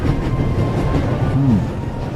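A train runs at full speed in the video game The Raven: Legacy of a Master Thief, giving a loud, steady low rumble with a brief squeal partway through and no talk.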